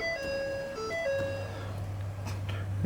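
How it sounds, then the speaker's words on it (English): A 2012 Ford F350 Super Duty dually with a Powerstroke diesel starts up: dashboard chimes sound first, then the engine catches after about a second and settles into a steady low rumble nearby. "Now let's go ahead and start the engine."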